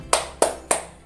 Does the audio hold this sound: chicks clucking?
no